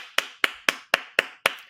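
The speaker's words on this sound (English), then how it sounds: "I got to clap to that one" Six sharp hand claps in an even, quick rhythm, close and crisp, each with a short decay.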